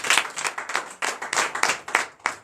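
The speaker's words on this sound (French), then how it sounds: "Donnez l'acclamation au Seigneur Jésus." A church congregation at a Friday night deliverance service in Comè, Benin, breaks into irregular clapping and applause, with bursts of hands rising and falling closely in quick succession and no speech over them.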